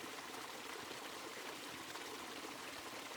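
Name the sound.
waterfall, water cascading down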